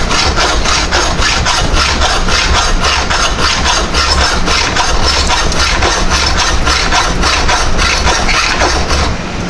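Metal quick-lock part for a milling machine being cut, a loud continuous rhythmic rasping with regular strokes, steady and close throughout.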